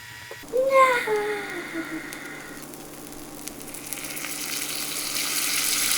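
Butter sizzling and crackling as it melts in a hot pan for keto almond-flour pancakes, a steady close fry that builds in hiss, with a brief high whine near the start.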